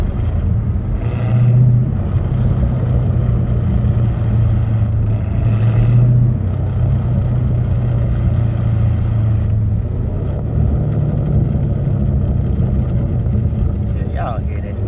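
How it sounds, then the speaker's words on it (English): Lamborghini Urus SUV with a mid muffler delete cruising, a continuous close engine and exhaust drone with slight swells in level, no distinct pops standing out; a voice talks over it at moments. "Still gonna give y'all these pops and crackles, man, from this GoPro though."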